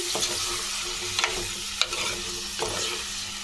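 Thinly sliced onions, green chillies and gurika fish fry in hot oil for a gurika pulusu, a steady close sizzle broken by a few scraping stirs of a spoon, with no talking.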